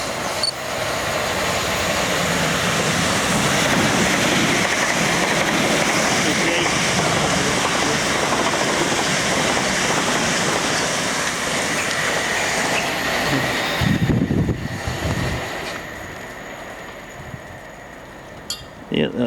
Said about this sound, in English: Yeah, that's another express Portsmouth Harbour bound train.